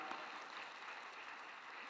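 A congregation claps together during a Wednesday worship service at Yoido Full Gospel Church, a steady, dense wash of applause that fills the room evenly without voices.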